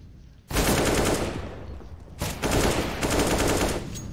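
Rapid rifle gunfire from a shooter video game during a competitive match, two loud sustained bursts of automatic fire with a short gap between them, no talking.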